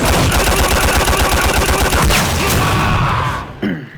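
A stand's rapid barrage of punches in a custom video game moveset hammers out a fast, loud, evenly spaced stream of impacts, then ends in a single heavier finishing punch before a brief tail.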